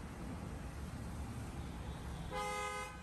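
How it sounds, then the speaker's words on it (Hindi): A brief dual-tone car horn blast from a 2021 Skoda Octavia L&K sounds near the end, a harmonically rich honk over a steady background rumble of an idling vehicle. "डुअल टोन हॉर्न है"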